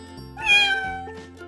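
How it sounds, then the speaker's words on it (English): Cartoon cat in a kids' educational animal puzzle game, giving a single clear meow that rises and fades over about a second. "Cat."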